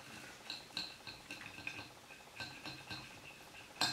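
Quiet metallic clinks and light scraping of a knife and cutlery on a plate while a small piece of steak is cut, a series of soft irregular taps ending in a sharper clink.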